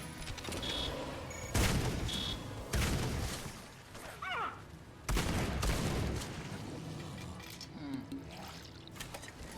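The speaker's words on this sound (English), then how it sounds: "the double machine guns shooting so fast is kind of funny" Twin machine guns in the Supplice video game fire in several loud, rapid bursts separated by short pauses, with a faint trickling sound between the volleys.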